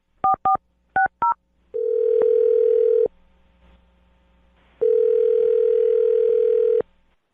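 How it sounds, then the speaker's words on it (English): A telephone call is placed: four quick pairs of touch-tone dialing beeps, then two long steady ringback tones separated by a pause, loud and clean, with no voices. "I'm going to dial his phone right now."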